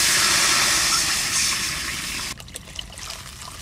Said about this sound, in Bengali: এবার কড়াইতে আমি জল দিয়ে দেবো।